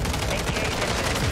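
The Lockwood 680 shotgun fires during first-person shooter play, dense and loud blasts packed tightly together amid continuous game noise, with no clear gaps between shots.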